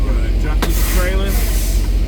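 A semi truck's air brakes give a sharp, close hiss while a trailer is dropped, bursting out briefly over a loud steady diesel idle rumble.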